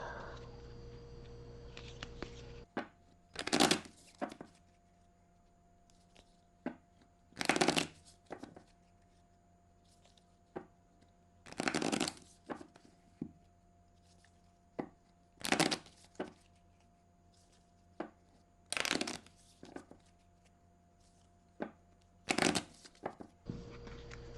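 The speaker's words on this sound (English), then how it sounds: "I don't know if I can shuffle this thing all together." A deck of tarot cards is shuffled in a series of crisp riffling bursts, each a second or so long, spaced several seconds apart in a quiet room.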